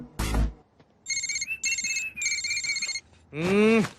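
A mobile phone ringtone sounds for an incoming call, playing three bright electronic bursts back to back after a thump, then a voice briefly answers at the end.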